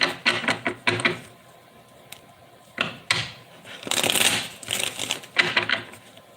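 Tarot cards are shuffled in several quick bursts of riffling and flicking, close and crisp, with short quiet pauses between the bursts.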